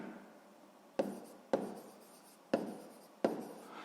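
Pen writing an answer on paper, four short scratchy strokes spaced unevenly, close and quiet in a silent room.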